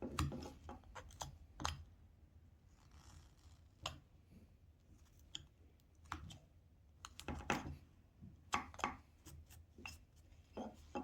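A knife whittles a small wooden figure, giving quiet scattered clicks and short scraping cuts at irregular intervals with close, soft detail.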